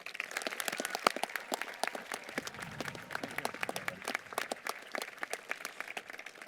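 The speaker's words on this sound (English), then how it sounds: "Please join me in giving them a heartfelt round of applause." An audience at a high school graduation ceremony claps, many distinct sharp hand claps scattered in an uneven, fairly distant patter that rises and falls in density and never quite settles into a unified roar.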